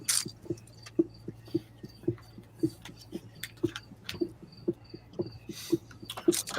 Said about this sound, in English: that is the sound of someone hacking up bricks in Minecraft.